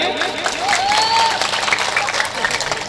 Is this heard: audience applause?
yes